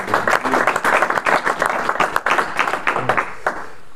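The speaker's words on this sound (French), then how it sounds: "on peut vous applaudir." A conference audience applauds after a talk on industry and ecology, dense clapping from many hands that holds steady and then thins out toward the end, filling the room.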